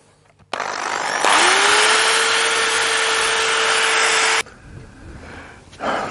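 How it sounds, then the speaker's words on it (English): A wire brush spinning in a cheap drill strips surface rust from metal, a loud steady whine and scratchy grinding for about three seconds after a short start, then cutting off to quiet. "So I've got a basic wire brush in a drill"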